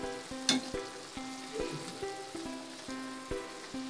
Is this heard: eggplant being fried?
yes